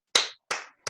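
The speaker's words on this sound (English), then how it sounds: "Let's give him a round of applause." A few separate claps for a research seminar presenter on childcare, three short bursts spaced apart, fairly quiet and with no talk.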